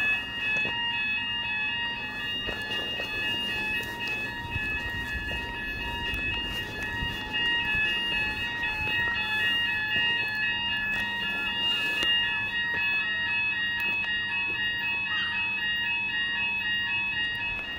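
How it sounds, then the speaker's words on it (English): Alarm sounding continuously outdoors near a beach in Cornwall, a loud steady multi-tone electronic wail held without a break, over faint wind and background rumble. "After staring the alarm face to face, we headed back to the beach."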